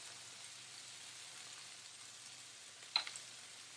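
Potatoes fry with thyme in a pan as salt and pepper are sprinkled over them. A soft, steady sizzle hisses throughout, and a brief patter of crackles near the end marks the seasoning landing in the hot fat. No one speaks.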